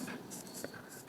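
A pen or pencil scratching out a division answer on paper, with soft close strokes in short bursts and a faint hiss behind them.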